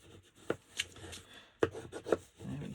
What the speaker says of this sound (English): let's just bring the bone folder in and get those edges nice and smooth